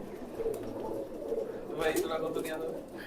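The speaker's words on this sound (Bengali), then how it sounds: "ভিউয়ার্স এইখানে দুইটা কবুতর দেখেন, দুইটাই টপ কোয়ালিটির, দুইটা নর কবুতর, ইন্ডিয়ান কালদম" Two male Indian Kaldam pigeons coo softly at close range, their low warbling calls recurring through a steady background murmur with faint voices nearby.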